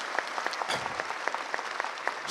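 Audience in a hall claps to welcome the Governor of Chhattisgarh at a public event in Chhindwara, a continuous dense patter of many hands with a few louder individual claps.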